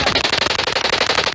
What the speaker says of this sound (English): Gunfire almost constant.